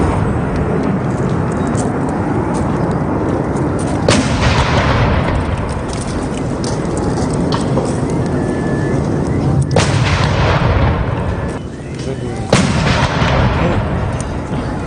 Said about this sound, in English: And 21 gun salutes were done in his honor.